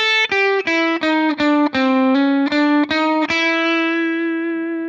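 Electric guitar playing a quick blues-scale lick with hybrid picking, about ten crisp plucked notes in a steady run ending on a sustained ringing note, with a driven, effected tone, loud and close, no talking.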